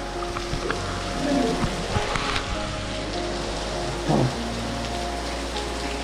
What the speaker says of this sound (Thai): โอ้โหฝนตกแรงมาก